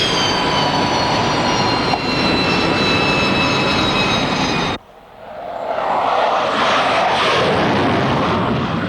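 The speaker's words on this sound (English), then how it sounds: "The very presence of the sleek, ear-piercing flying war machines creates an atmosphere in the carrier difficult to explain." A4 Skyhawk jets on the aircraft carrier HMAS Melbourne: a loud, steady whining jet roar with high engine tones, cut off abruptly midway, then a rushing roar building back up.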